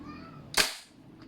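A VFC Knights Armament SR-16 E3 MOD2 M-LOK CQB airsoft gas blowback rifle fires a single semi-auto shot: one sharp, close crack with a brief decay, alone in a quiet room.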